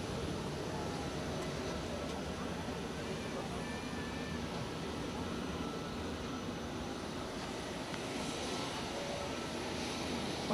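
Airbus A340 jet engines at Zurich Airport, a steady broadband roar from an airliner departing off runway 16, holding loud and even throughout with people talking over it.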